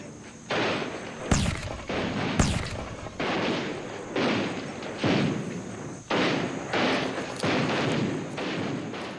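Rifle volleys in a battle during the Indian rebellion ring out as a run of repeated heavy blasts, each with a long rumbling decay and a couple of sharper cracks, loud and dense throughout.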